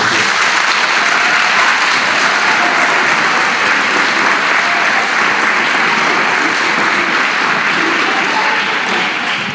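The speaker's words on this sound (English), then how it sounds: "So let's get one last round of applause for all their hard work." A crowd applauds a middle school band concert with sustained, dense clapping that stays loud and even for the whole stretch, with no voices over it.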